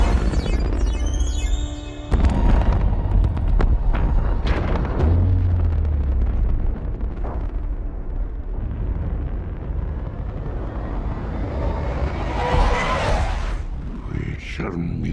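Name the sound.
grenade explosion in a Transformers film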